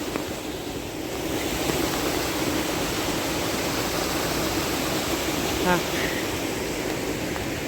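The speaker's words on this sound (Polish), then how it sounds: "Stąd płynie ta woda." Constant rushing of water flowing from a stream outlet, a steady broadband wash close by, with a brief faint voice partway through.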